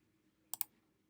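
Two quick, crisp clicks from a computer mouse in close succession, quiet and close against a faint background hum.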